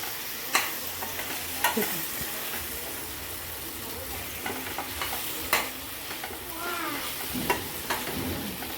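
Chicken masala with softened tomato being stirred in a pan, a soft sizzle underneath scattered scraping and knocking strokes of a spoon, fairly quiet and close, with no talking.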